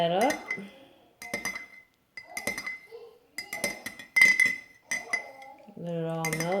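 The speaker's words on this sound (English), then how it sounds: "Alright, and then you just stir that up." A utensil stirs homemade baby wipe solution in a container, giving repeated light clinks and scrapes in short bursts, heard under someone talking.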